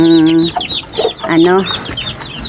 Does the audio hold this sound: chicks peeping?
yes